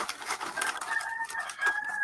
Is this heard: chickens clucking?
yes